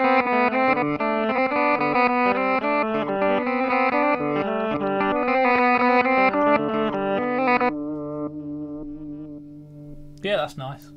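Guitar played through a Red Panda Tensor pedal set to reverse delay, with dense swelling backward notes in a loud steady stream that thins out into a softer sustained tail, ending with a short burst of sound.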